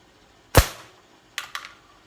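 Slingshot shots fired again and again at the same target spot: one loud sharp crack of impact followed a moment later by two quicker, lighter snaps close together, with no talking.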